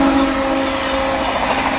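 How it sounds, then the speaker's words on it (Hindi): The Swarna Jayanti Express overtakes the Rajdhani Express at a flat 130 km/h. A loud, steady rumble and rush of a fast-moving train carries a sustained tonal whine throughout. "फ्लैट 130 पे ओवरटेक करके जा रही है अपनी ट्रेन को भाई"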